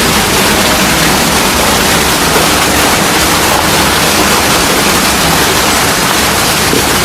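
A continuous, dense stream of cow's milk pours steadily, a loud broadband rush with no breaks, like a small waterfall close by.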